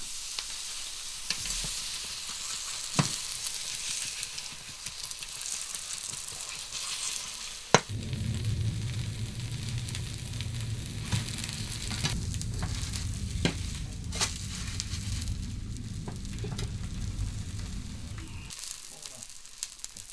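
Freshwater snail pancakes fry on a charcoal brazier at a countryside kitchen in Okcheon, giving a soft, steady close sizzle with crackles and occasional sharp pops, growing fuller partway through before easing off.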